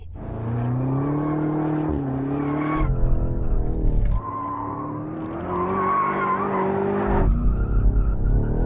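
A BMW, from an M8 versus M5 drag-race comparison, launches hard in two-wheel drive with its tyres spinning, the engine roaring and rising through gears and the tyres squealing, loud and close for about nine seconds.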